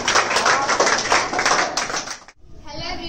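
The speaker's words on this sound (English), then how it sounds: "With a huge round of applause" Dense clapping from a crowd, steady and loud for about two seconds, then cutting off abruptly into quieter background noise.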